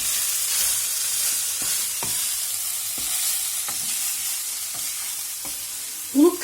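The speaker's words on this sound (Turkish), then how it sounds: "Kızarana kadar kavurmam gerekiyor" Tantuni meat sautés in an oiled pan, a steady close sizzle broken by regular scraping knocks of a stirring utensil about once a second, with no talk.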